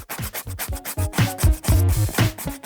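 Cartoon nail filing: repeated rhythmic rasping strokes, about a dozen quick back-and-forth scrapes, close and fairly loud with no talk.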